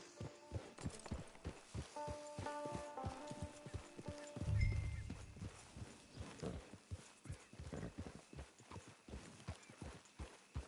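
Horse hooves clip-clop steadily in Red Dead Redemption 2, a walking rhythm of close, distinct hoofbeats with a brief low rumble partway through and faint game ambience behind.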